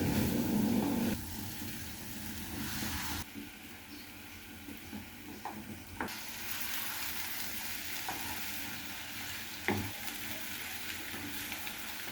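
Flattened rice (chira) is poured over cooked vegetables in a pan and stirred, giving a soft sizzle with scattered scrapes and light taps. The frying hiss is louder at first, then settles to a quieter, steady background.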